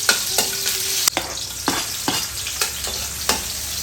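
Onion frying in a pan, a continuous close sizzle punctuated by regular scraping knocks of a utensil stirring, with no voices.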